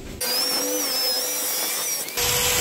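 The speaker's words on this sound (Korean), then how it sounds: "전기톱이 멈추지 않아 위험해 보입니다" An electric saw cutting plywood while building shelves, giving a steady, loud, high whine close by with a faint tonal edge, running without pause and with no voices.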